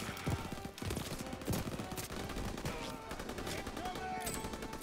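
Rapid automatic gunfire from a World War II shooter game, Call of Duty WWII, with dense overlapping bursts and heavy booming shots throughout, loud and close, mixed with battle noise and game dialogue.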